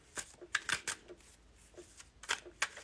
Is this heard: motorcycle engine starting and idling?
no